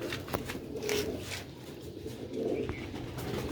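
Young pigeons coo softly on a rooftop loft, a few low, throaty coos rising and fading over a faint background hum, close by and without talk.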